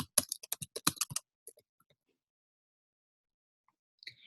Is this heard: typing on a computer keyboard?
yes